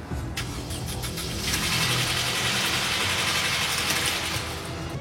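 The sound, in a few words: Mercedes SLK R171 engine running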